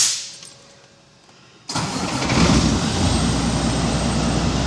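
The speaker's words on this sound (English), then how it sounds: "it is fully straight piped. X15, 605 horsepower." Straight-piped Cummins X15 truck engine rated at 605 horsepower, quiet at first, then catching abruptly and settling into a loud, steady, rumbling idle close by with no talking.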